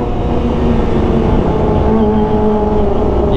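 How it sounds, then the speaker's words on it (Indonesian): Kawasaki ZX25R motorcycle fitted with an Arrow Pro Race exhaust, a loud, deep, continuous engine roar held at high revs, close by and steady throughout, with no talk. "kalau Aero ini benar-benar menggelegar, tapi enak gitu didengar karena suaranya nggak cempreng guys"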